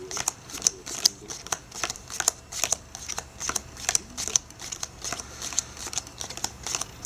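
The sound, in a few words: playing cards being dealt into four piles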